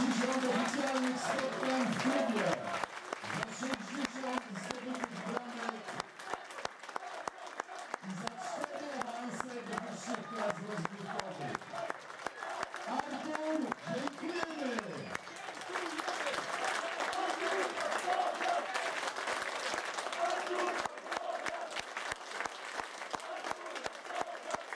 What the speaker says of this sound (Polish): Artur Bartkowiak opuścił boisko oklaskiwany na stojąco przez wągrowieckich kibiców